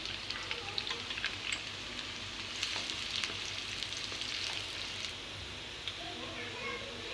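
Onions with whole red chillies, cumin and curry leaves sizzle and crackle steadily in hot oil, a soft even frying hiss that continues throughout.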